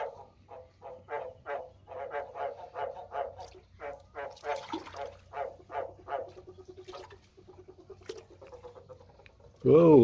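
Male frogs giving mating calls in a rapid series of pulsed croaks, repeated steadily through a wet outdoor setting with low background hum, ending in a louder burst.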